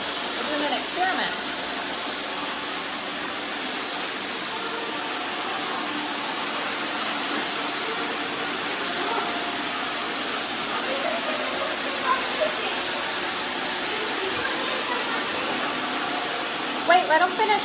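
An iRobot Roomba robot vacuum cleaning up spilled rice on the floor, a continuous airy motor whir running steadily under occasional faint voices, with a few small clicks and knocks near the end.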